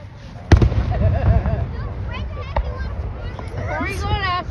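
Fireworks bursting outdoors with a sharp nearby bang followed by further pops and crackles, under excited talking and children's voices from a watching crowd.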